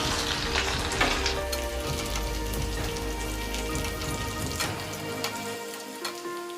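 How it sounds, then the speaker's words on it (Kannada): Mustard seeds spatter and crackle in hot oil for tempering, a dense, continuous sizzle of rapid pops close by that eases slightly toward the end. "ಸಾಸಿವೆ ಎಲ್ಲ ಚೆನ್ನಾಗಿ ಚಿಟಪಟ ಅಂತಿದೆ"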